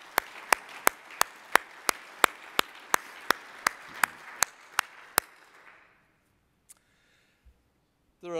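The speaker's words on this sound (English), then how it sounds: "Let's applaud again the Academy representatives who could be with us tonight." A steady run of sharp, evenly spaced claps rings out at a gala awards dinner for academy representatives, then stops abruptly, leaving near silence with a few faint knocks.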